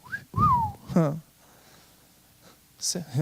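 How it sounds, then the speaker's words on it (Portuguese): A man whistles a few short gliding notes at a men's church meeting, with bursts of breathy whistling and speech around them in a quiet room. "Qual que é o pai que não ensina o filho a assobiar?"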